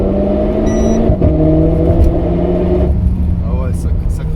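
Renault Clio 4 RS Trophy with a 250 hp Stage 1 tune, its engine droning and rising in race mode, steady and close beneath people talking in the car.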